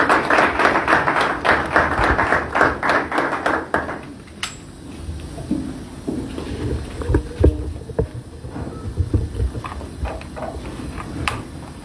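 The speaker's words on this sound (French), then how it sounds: "Sous vos acclamations, s'il vous plaît." A crowd applauds to welcome the commissioner general of a scout association at a gathering on African youth and scouting: loud, dense clapping for about four seconds, then thinner, scattered claps with no talking.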